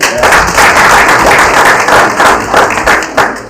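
An audience at a debt conference session breaks into sustained applause, dense clapping swelling and pulsing in waves throughout, loud and close.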